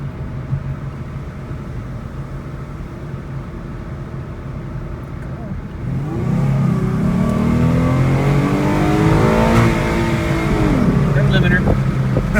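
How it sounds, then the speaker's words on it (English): A Ford Mustang's 3.7 V6 idles with a low, even rumble, then revs up loudly with rising intake roar that holds and swells before easing back. "That's the first time I've heard intake noise out of this car in a while."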